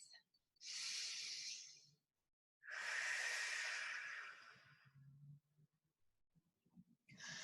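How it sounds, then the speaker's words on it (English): An exercise instructor in a hips and glutes flex class takes two long, close, audible breaths, a deep inhale followed by a drawn-out exhale, then a quieter pause with faint movement. "Take a deep breath."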